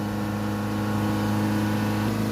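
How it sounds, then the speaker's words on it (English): A Land Rover Freelander 2.2 diesel engine with a manifold pressure fault is held at a steady elevated idle around 3000 RPM, producing a constant, even drone with no change in pitch. "Hold the revs up around 3000 RPM for a couple of minutes."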